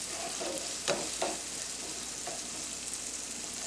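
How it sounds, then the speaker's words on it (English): Sesame seeds and a pinch of oregano stirred into quinoa and beans frying in a pan: a steady broad sizzle with a few scraping spoon strokes near the start, no talking. "Okay, stir this up a little."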